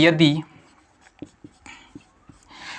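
Chalk or marker strokes on a classroom board during a Class 12 physics lesson, a few short scratchy taps and scrapes, fairly quiet, following a brief burst of a teacher's voice.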